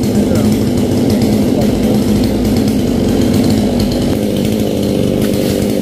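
A chainsaw runs steadily and loudly throughout, cutting fresh green coconut palm fronds from a coconut tree standing close to a wall, with voices faintly mixed in beneath the engine drone.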